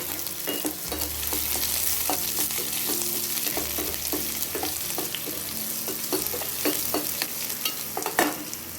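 Onions for rava kichadi fry in hot oil, a loud continuous sizzle broken by frequent scraping stirs and a low hum, with no one speaking.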